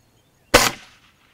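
A single sharp air rifle shot firing a pellet during a pellet comparison at targets, a crisp close crack with a short decaying tail, alone in a quiet setting.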